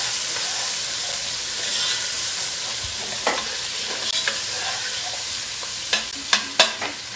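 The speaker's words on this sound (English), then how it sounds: "I'm just cooking these onions." Onions cooking in olive oil in a pan give a steady, close sizzle and hiss, with a few sharp stirring clicks and pops toward the end and no talking.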